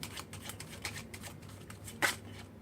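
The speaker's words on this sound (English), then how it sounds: "I'm gonna shuffle this deck." A deck of playing cards is shuffled up close: a rapid, even riffle of soft flicks and clicks, ending in a slightly louder snap as the cards settle.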